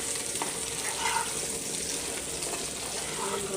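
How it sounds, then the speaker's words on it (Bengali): Eggplant pieces fry lightly in a little oil in a pan, giving a steady, close sizzle and crackle with no voices. "বেগুনগুলো হালকা তেলে মানে ভাজি করে দিলে খেতে ভালোই লাগে"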